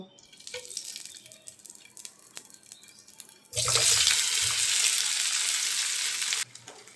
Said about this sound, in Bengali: এখন এই সেদ্ধ আলু তেলের মধ্যে দিয়ে দেব